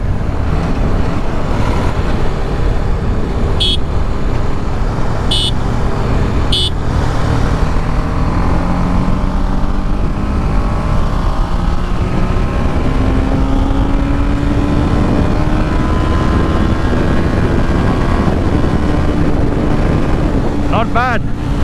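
A 2020 RR310 and an Interceptor 650 motorcycle drag race in fourth gear, the engine drone rising steadily in pitch under heavy, constant wind roar close to the microphone.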